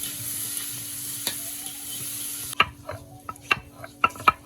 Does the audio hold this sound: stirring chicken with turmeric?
yes